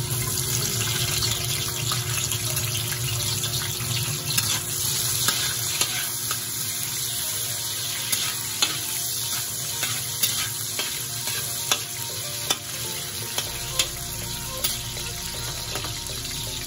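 Chopped ginger frying in cooking oil, a dense steady sizzle with running-water hiss and scattered clicks and stirring taps throughout, no voices.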